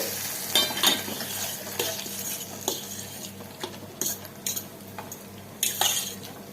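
Hot tempering is tipped into a mango buttermilk curry (mor kuzhambu) and stirred: a steady close sizzle with a spoon scraping and clinking against the pot in irregular bursts.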